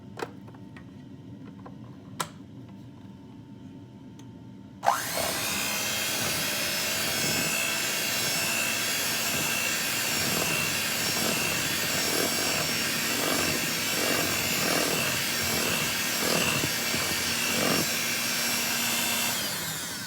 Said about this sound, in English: And we're going to blend. Just blend it.